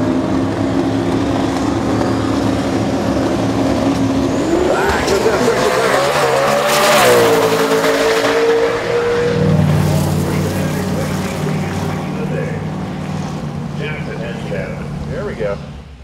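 Mustang race cars on a track during a qualifying heat: loud roaring engines rising in pitch as a car passes close, then easing off, with other engines droning behind and a commentator talking over the racing.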